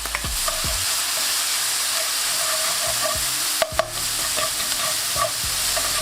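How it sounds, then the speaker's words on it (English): Peppers, onions and spring onions sizzle in oil in a pan, a steady frying hiss broken by a few sharp clacks of stirring against the pan, with no talking. "grab a pan, add a touch of oil, and with your peppers, onions, and spring onions. You want to lightly saute these"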